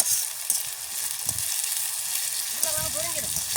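Steady, close sizzling of potatoes frying in hot oil, with a voice briefly audible near the end.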